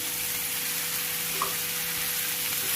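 Mint and coriander leaves with tomatoes sautéing in a pan for a home-style ground-masala chicken curry, giving a steady, soft frying sizzle throughout with no talk.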